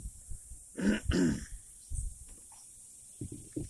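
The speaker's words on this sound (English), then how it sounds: "Sorry for clearing my throat." A person clears their throat twice in quick succession, close and fairly loud, followed by faint rustling and a couple of soft thumps.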